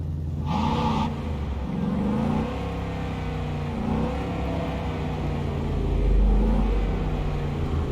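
Car engine in the Cyberpunk 2077 video game rumbles steadily while driving, with shifting engine tones, a brief revving surge and a louder low rumble late on.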